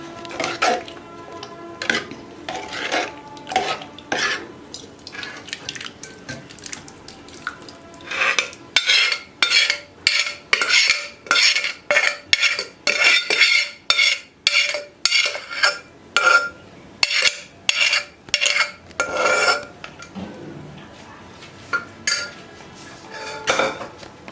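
Spinach dal being stirred in a metal pot, a long series of rhythmic scraping clanks from the spoon against the pot's sides, loud and close in a home kitchen.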